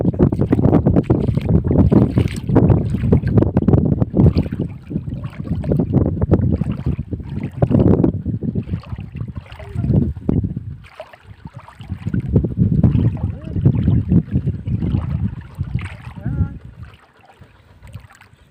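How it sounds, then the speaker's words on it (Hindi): River water rushes and churns in a steady, broad wash for most of the stretch, with wind buffeting the microphone and swelling and easing in waves before the sound thins out near the end. "थोड़ा सा मैंने आपको पानी की आवाज़ सुनवाई है"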